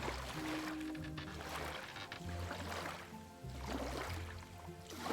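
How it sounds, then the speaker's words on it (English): Steady water ambience plays during a sailing voyage in the Fabled Lands game: waves wash and swirl continuously under faint tonal game audio, with no talking. "Man, this water is really loud for some reason."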